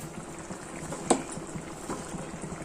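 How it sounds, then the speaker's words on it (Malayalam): Spicy anchovy fish curry simmers and reduces in a pot, a quiet steady bubbling with one sharp clink partway through, no talk. "ഒന്ന് തിളച്ച് വറ്റി വരുമ്പോൾ കറക്റ്റ് ആവും"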